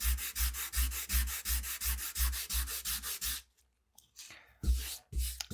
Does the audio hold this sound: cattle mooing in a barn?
no